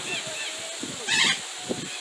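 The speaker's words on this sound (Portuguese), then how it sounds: "é um arara." A macaw gives a short, harsh squawk outdoors at Serra do Vulcão in Nova Iguaçu, Rio de Janeiro. The call is moderately loud against soft background noise, with low voices and movement around it.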